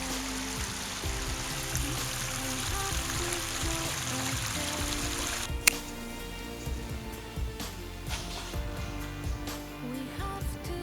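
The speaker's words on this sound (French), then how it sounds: "c'est de traverser le ruisseau sans tomber dedans" Water of a small stream flowing during a winter hike through snow, a steady broadband wash and trickle running throughout, fairly close, with a sharp knock midway and footsteps and shuffling while crossing.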